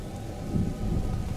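Rain falls steadily with a low rumble of thunder rolling underneath in A Plague Tale: Innocence, a dense, even wash of storm sound with no voices.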